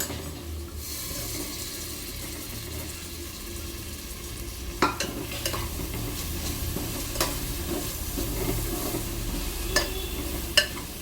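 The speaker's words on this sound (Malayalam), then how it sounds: "സവാള നല്ലതുപോലെ വഴറ്റി എടുക്കണം അതിൻ്റെ പച്ച മണം മാറണം" Chopped onions sautéed and stirred in a pan for a home-style chicken curry, a steady low sizzle with occasional sharp scrapes and clinks of the spoon against the pan.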